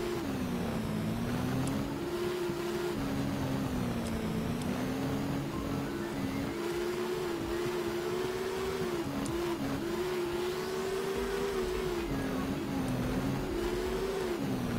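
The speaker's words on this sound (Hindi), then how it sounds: "बाइक का साउंड है ना मुझे उसकी वाइब दे रहा है" A motorbike engine in the video game Cyber Hunter hums steadily with small rises and dips in pitch as it revs, continuous and fairly loud, with no talking.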